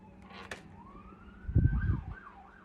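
A distant siren wails, rising and falling in pitch, while a brief low rumble passes underneath partway through.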